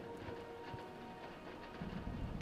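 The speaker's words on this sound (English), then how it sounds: "Listen to the sound of the rain and the wind on the roof." Rain and wind drum on a roof in the video game Elder Scrolls IV: Oblivion, a steady, even hiss of rainfall with low rumbling gusts that swell slightly near the end.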